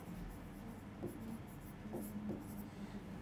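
Pen or marker writing during a higher math lesson, a few short scratchy strokes at close range over a low steady room hum, with no speech.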